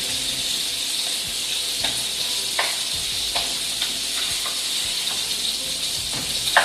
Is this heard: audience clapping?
no